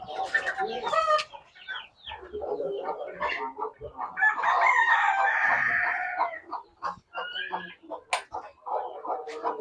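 Native country chickens, including speckled hens, at a farm, heard close by as a busy mix of clucks and squawks, with a rooster crowing through the middle, under intermittent talk.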